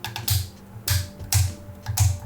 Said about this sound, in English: They are too tight, and they are like ratchet joints, so when you move them you will hear that clicking sound.